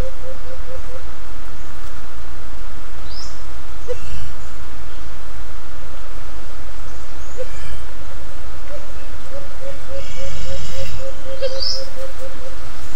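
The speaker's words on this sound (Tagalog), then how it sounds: "kung maririnig nyo yung naghuhut-hut o humuhuni andun sa taas, siya yun yung nag-warning call kanina" A wild bird gives short warning calls from high in the forest canopy, a few faint, scattered chirps and hoots over a steady background drone of insects and ambient noise.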